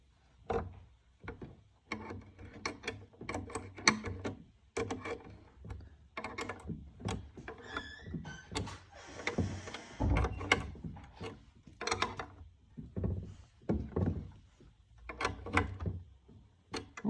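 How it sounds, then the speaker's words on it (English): Spanner tightening a lock nut on an antique bureau during restoration, a series of close, sharp metallic ratcheting clicks and scrapes coming in irregular bursts, quiet overall with no talking. "So we're locking that up with our spanner."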